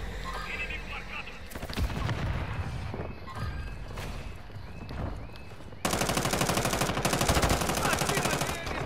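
Dense, continuous automatic gunfire from the video game Modern Warfare 2, rapid bursts layered over game effects and voice chatter, with a louder, steadier stretch of firing toward the end.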